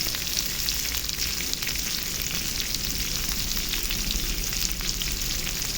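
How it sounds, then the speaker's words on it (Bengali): Mixed vegetables and Malabar spinach fry in a pan with a loud, dense, unbroken sizzle, stirred now and then, heard up close with no speech. "আর এগুলো একটু নাড়াচাড়া করে এবার স্বাদ মতো নুন দিয়ে দিলাম"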